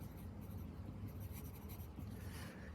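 Pen or pencil scratches faintly and continuously across paper during a lesson on scatter plots, a soft, steady rubbing close to the microphone.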